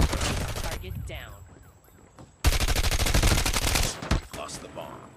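Automatic gunfire from a COD Mobile ranked match, with loud bursts of rapid shots and game effects, a brief quieter gap, then sustained heavy firing.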